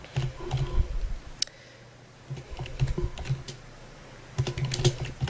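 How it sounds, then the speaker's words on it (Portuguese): Someone types text in Word 2010 on a computer keyboard, producing close bursts of rapid key clicks separated by a short quiet pause. "Ora bem, escrevemos então o texto."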